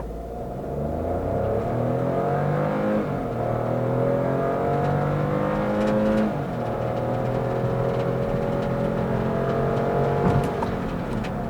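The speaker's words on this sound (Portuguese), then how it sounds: "Primeiro vamos fazer a aceleração com o ar-condicionado desligado." Hyundai HB20S compact sedan accelerating hard with the air conditioning off, engine note climbing steadily through gear changes, loud and close throughout with no talking.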